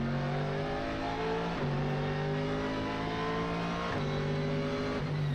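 A GT race car at Okayama circuit brakes hard for the hairpin and then accelerates, its engine loud and close, rising through gears with two clear shift drops.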